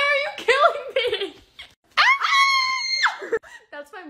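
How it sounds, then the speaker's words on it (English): A woman lets out a loud, shrill scream, rising and holding before breaking off, near and alone amid short bursts of excited talk from others around her. "That's my mom's quirky scream."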